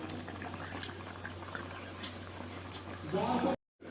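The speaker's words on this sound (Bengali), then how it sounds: "তো খুব সুন্দরভাবে ফুটে এসছে" Jackfruit curry bubbles at a steady boil in a pot, a soft continuous gurgle and simmer heard close up, with a brief louder burble near the end before a short dropout.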